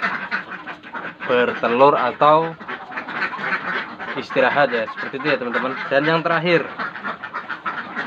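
Laying ducks quack in a duck coop, loud raspy calls in bursts that overlap and repeat, heard close and mixed with someone talking over them the whole time.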